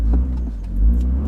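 A BMW M135i launching from standstill and accelerating hard, a loud, close engine roar with a low, deep rumble that swells as it pulls away, with no talking.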